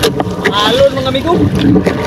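Strong wind and sea waves buffet a small boat off Camiguin, with gusty rumble and splashing close to the microphone while someone speaks over it.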